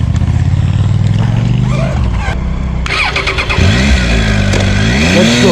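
A Triumph Tiger 800cc motorcycle engine revs loudly up close, its pitch climbing and falling as it pulls away, with another big 1200cc bike running alongside on a mountain road.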